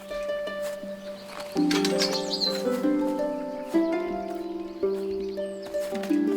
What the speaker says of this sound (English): He's very greedy. He's a greedy bird.